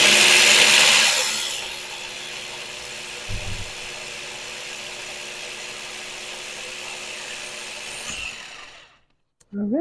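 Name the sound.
blender blending spinach pesto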